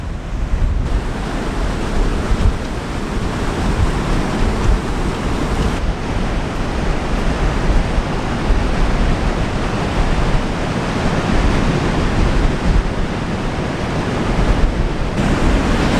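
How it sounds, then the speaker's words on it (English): Ocean waves breaking on a beach after a storm: a loud, continuous roar of surf, mixed with wind buffeting the microphone, and no voices. "the waves are unpredictable"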